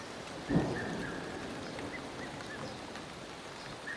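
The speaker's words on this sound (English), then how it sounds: "The storms tend to be limited to the afternoons" An afternoon thunderstorm in the South African mountains: a close thunder crack lands early, then steady rain patters on surfaces and keeps falling on its own.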